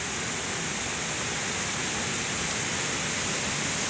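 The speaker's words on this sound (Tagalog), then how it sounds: "Ayan, ang lakas ng tubig." Rushing floodwater over rural fields during ongoing rain, a dense, steady broadband roar like a torrent or waterfall, loud and unbroken for the whole stretch with no voices.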